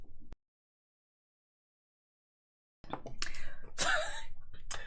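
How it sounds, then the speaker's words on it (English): A short muffled sound, then silence, followed by a few sharp coughs and throat noises close to the microphone. "I'm about to cough"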